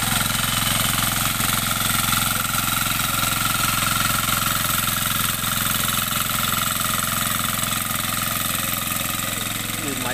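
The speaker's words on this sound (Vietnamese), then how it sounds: "Nhìn máy chạy dã man, khỏe." Close and loud, the 10-horsepower Sakura 186 diesel engine hammers along at a constant pace while tilling a flooded rice paddy, with a dense mechanical rattle throughout.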